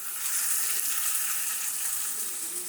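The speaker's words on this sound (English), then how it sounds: "Woo, sizzle." Steady, close sizzling of Iranian spaghetti frying in a pan, a continuous crackling hiss with no talking.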